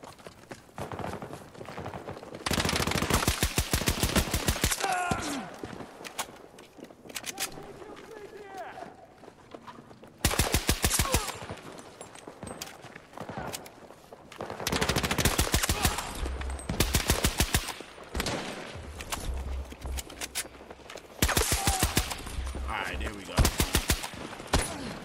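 Shotgun and rapid gunfire in a first-person shooter video game come in loud, dense bursts separated by brief lulls, with footsteps between volleys and someone talking over the action.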